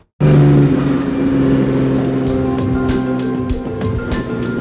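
A 1971 BMW 2002 car drives steadily, its engine note loud and close with a constant hum and slight rises in revs throughout.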